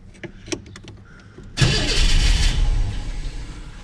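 A 1989 Pontiac Firebird that has sat unused for a long time is cranked after a few faint clicks, then its engine catches and roars loudly before settling toward a rough idle.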